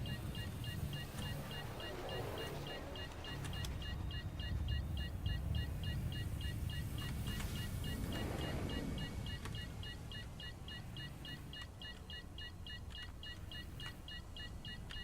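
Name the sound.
incessant beeping noise in video game Star Citizen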